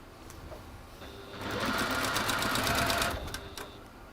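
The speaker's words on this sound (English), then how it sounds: "So when I sew them together, it'll give nice crisp points" Sewing machine stitching quilt fabric pieces together, a steady close mechanical whirring run of about two seconds, rising from and falling back into a quieter background hum.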